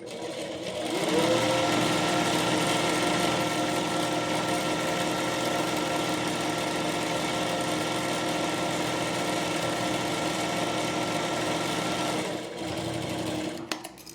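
Sewing machine stitching a half-inch lock seam on a layered frill frock, running as a steady, even mechanical whir for about eleven seconds before slowing and stopping, with no talking.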